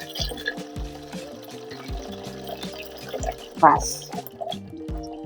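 Water is strained into a vessel, giving soft trickles and a brief louder splash near the end, under a person talking close by.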